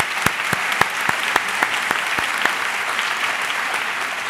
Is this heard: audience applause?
yes